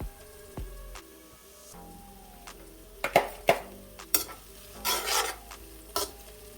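Onion, pimento pepper, scallion, shadow benny, thyme and hot pepper for roucou vegetable rice are tossed into a hot pot, with a soft sizzle under several scraping stirs and clinks of a spoon against the pot.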